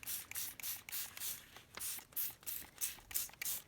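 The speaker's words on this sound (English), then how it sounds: "I'm just spraying this over" A small hand-pump spray bottle filled with coffee is squirted repeatedly over a paper napkin, giving quiet, evenly spaced hissing bursts with faint trigger clicks, about a dozen in quick rhythm, close and alone.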